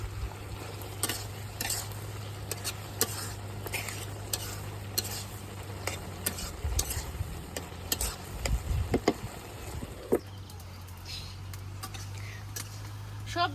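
Vegetables and lentils being sautéed and stirred in a pan, with a low sizzle and repeated scraping and clinking of a spoon against the pan, fairly quiet and close, with a steady hum beneath.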